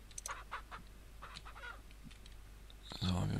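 Chickens on a farm in the video game Ranch Simulator cluck faintly in short scattered bursts, ending with a louder flurry of clucking.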